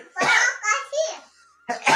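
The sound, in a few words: child coughing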